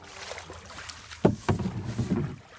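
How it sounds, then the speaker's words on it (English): A paddle strokes the water from a small boat on a family outing, giving a few soft splashing swishes close by over light wind noise, with no talk. "Put your paddle on the other side, Autumn, and paddle."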